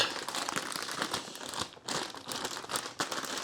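A snack bag being torn open gives loud, close crinkling and crunching plastic in irregular bursts, with a short lull partway through.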